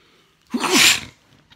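A single loud sneeze close by, a quick sharp intake followed by a burst of breathy noise, then quiet.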